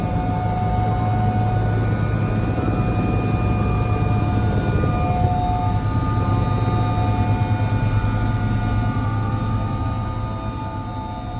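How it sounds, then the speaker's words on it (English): A loud, continuous roar of a twin-turbine helicopter taking off, with steady turbine whine and low rotor drone, holding level before easing slightly at the end. "The 2 turbines yawed louder as they started up, and the thumping of the rotor became louder."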